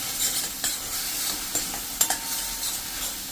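Spices and potatoes sautéing in oil for a potato and gram flour curry, a steady close sizzle with a few sharp clicks and scrapes of a spoon stirring the pan, no talking.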